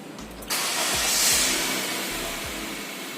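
A 2016 Honda Mobilio E VTEC engine cranks briefly and catches, settling into a steady close idle with a broad hissing rush and a few low thumps.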